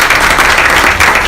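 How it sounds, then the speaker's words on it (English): Loud, close, dense applause from the audience at a Cleveland Ward 4 candidate forum, steady throughout with no voices. "So I wanted to give them a round of applause."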